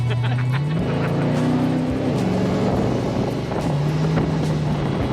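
An old car with a tired motor cruising along, its steady engine drone rising and dipping gently with small throttle changes, recorded from inside under heavy wind rush.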